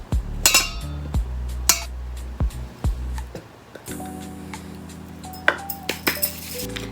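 A flour sifter works through all-purpose flour for a lemon loaf cake, giving close, irregular metallic taps and clinks with short pauses between them.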